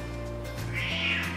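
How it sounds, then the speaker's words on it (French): A cat meows in a drawn-out, rising-and-falling call, fairly close and clear over a steady low hum, with no one talking. "le chat qui miaule."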